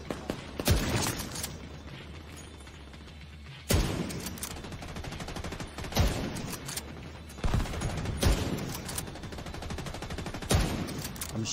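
A sniper build in a shooter game fires about six loud shots at irregular intervals of a few seconds. A continuous din of background combat runs underneath them.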